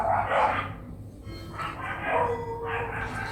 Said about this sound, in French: c'est parce qu'il y a le chien du voisin qui appelle